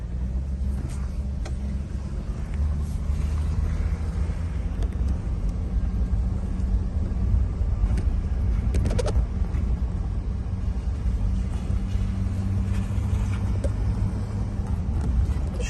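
A car with a GM 4L60E automatic transmission that lacks third and fourth gear drives along, its engine a steady low rumble with road noise throughout and only slight changes as it shifts.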